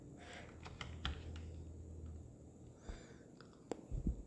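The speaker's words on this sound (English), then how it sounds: "type in the code." Someone types a code on a computer keyboard, a quiet run of scattered key taps with a few sharper clicks near the end, heard alone over faint room hiss.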